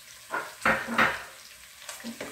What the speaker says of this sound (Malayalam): ഇത്ര ഇട്ട് ഇത് വീണ്ടും ഒരു മൂന്ന് മിനിറ്റോടെ ഇങ്ങനെ വഴക്കണം